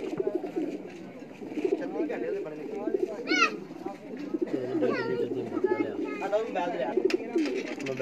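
Pigeons from a breeder's loft cooing repeatedly nearby, soft throaty coos and warbles layered over a constant murmur of people talking in the background.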